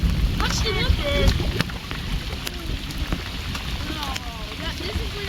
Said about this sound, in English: See, it's raining anyway.